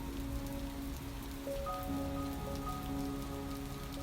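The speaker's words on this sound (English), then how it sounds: "Listen to the rhythm of the rain as it falls against the windows." Steady rain patters against windows, a dense continuous drumming with soft tonal hum lines running underneath, no voices.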